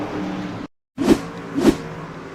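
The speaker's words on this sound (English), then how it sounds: "Gets loose on the exit of 4, single car spin, around he goes." Race car losing grip on the exit of turn four at North Wilkesboro Speedway and spinning alone: a broadcast engine roar cuts out briefly, then two loud rising surges of revving engine sweep past close by.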